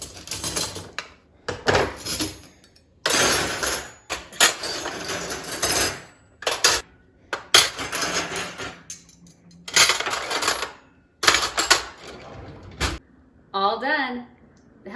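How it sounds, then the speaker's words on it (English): Knives, forks and spoons from a dishwasher tray are sorted into kitchen drawers, giving bursts of close metallic clinking and rattling separated by short pauses, with a brief voice near the end. "And then I can just start sorting it in my silverware drawers."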